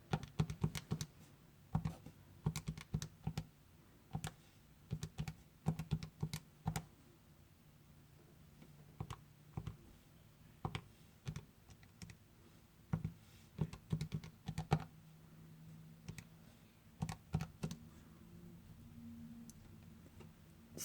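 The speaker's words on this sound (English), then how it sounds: "I'm going to type in this into my calculator." Calculator buttons are pressed in short bursts of quiet, crisp taps, with pauses between the groups. The tapping is close and faint, with no talking over it.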